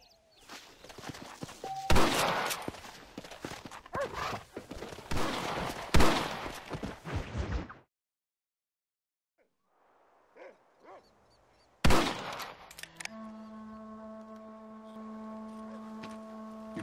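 A barn in Red Dead Redemption takes gunfire: a dense run of close, loud rifle shots and impacts, then near silence with a couple of faint thuds, then another sharp shot under a steady hum.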